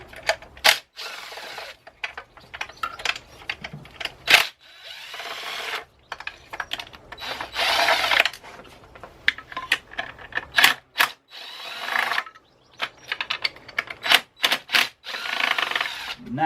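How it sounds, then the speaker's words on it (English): A power tool whirs in short, repeated bursts as it runs out five 10mm intake manifold bolts on a BMW N47/N57 diesel engine, with clicks and rattles between the pulls, loud and close. "it is time to remove all 5 of the intake manifold bolts"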